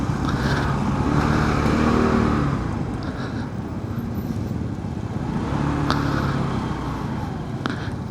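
A car drives slowly along, its steady engine rumble and tire noise swelling and easing as it maneuvers into a parking spot, with a couple of faint clicks near the end and no talk.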